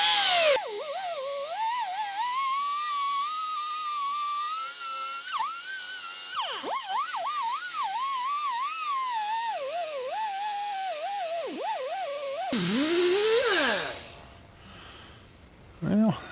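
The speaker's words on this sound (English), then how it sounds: "the last thing I'm going to try is these little rotolock type discs on the die grinder" A die grinder fitted with small roloc-type sanding discs works on a two-piece wheel, a sustained high-pitched whine that wavers in pitch as the load changes, loud and close, then spins down near the end.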